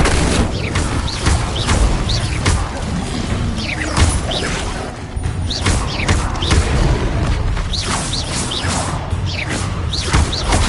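Repeated booming bursts with whooshing tails as the Incendio fire spell is cast again and again, loud blasts and swishes packed closely across the whole stretch.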